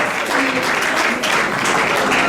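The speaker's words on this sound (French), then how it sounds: "Merci de bien applaudir pour l'artiste." Loud, dense audience applause for an artist at an awards ceremony, a continuous close wash of many hands clapping without pause.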